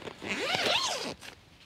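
A zipper on the door of a Helm 2 tent is drawn in one smooth, continuous pull lasting about a second, its rasping tone rising and falling, close and clear with no talk.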